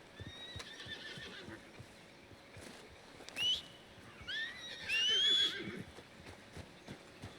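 In the video game Red Dead Redemption 2, a horse whinnies twice, loud and shrill with rising tones, over a steady background of soft hoof clip-clops.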